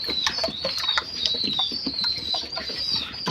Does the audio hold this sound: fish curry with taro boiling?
no